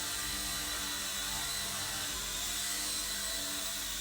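An Eachine E129 RC helicopter's rotor spools up indoors in a confined space, a steady close whirring drone with a faint mechanical whine, constant in level and without speech.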